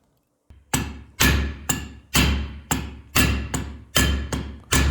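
Metal ring shank hammered on a wooden mandrel while being bent into a square signet ring, nine close, loud blows at a steady rhythm, each with a sharp attack and short ringing decay.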